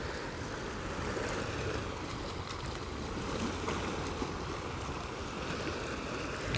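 Ocean waves rolling onto a beach, a soft, continuous wash of surf with gentle swells and a faint breezy hiss, heard alone at low volume.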